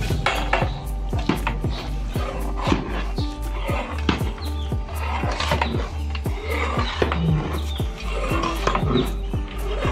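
Mutton dum curry being stirred in a metal pot, with a spoon scraping and clanking against the vessel in a steady, repeated rhythm of sharp metallic knocks, close and loud throughout.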